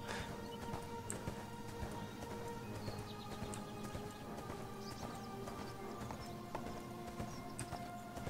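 Horse hooves clatter in a quick, steady galloping rhythm throughout, with a faint whinny and scattered clinks in a busy ArcheAge video game soundscape.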